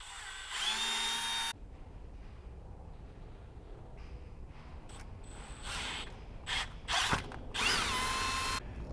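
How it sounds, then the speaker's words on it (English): A power drill boring a 3/16 inch hole while mounting a light kit on a Club Car Tempo golf cart, with a short whine, a quieter stretch, then several brief bursts and a final longer run, all close by. "we're gonna go 3/16 next because we wanna just step up as we make this hole"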